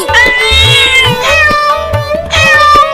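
A cartoon cat gives loud, high, drawn-out meows, several in a row with a rising and falling pitch, over a rhythmic backing.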